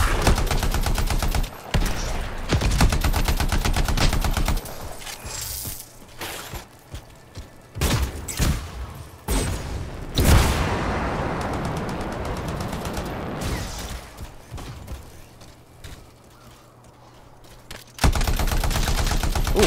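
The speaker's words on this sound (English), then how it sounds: "Now, RB's like a homing missile." Homing missiles launched in the action game Anthem, heavy rapid bursts of firing and booming impacts in loud waves with brief lulls between volleys.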